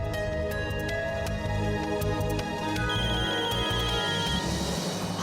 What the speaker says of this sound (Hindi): प्लीज इस बार अक्षत भैया को फोन उठाने दो।